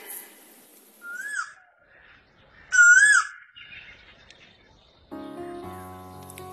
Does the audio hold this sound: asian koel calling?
yes